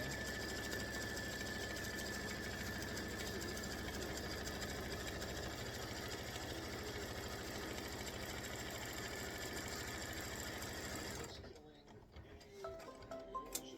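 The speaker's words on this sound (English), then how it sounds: "And now you do the decorative fill. So right now I am stitching" An embroidery machine stitching a decorative fill on fabric, a steady fast mechanical whir and tick running continuously before stopping abruptly near the end, leaving quiet clicks.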